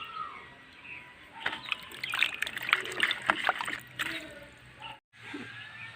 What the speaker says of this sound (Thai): เติมน้ำสักเล็กน้อยนี่ค่ะ